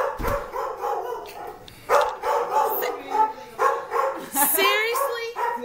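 Dog in a house barking loudly, with a series of sharp, close barks in irregular bursts and a few higher yips, while people talk nearby.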